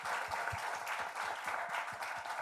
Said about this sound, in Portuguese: uma salva de palmas para os três aqui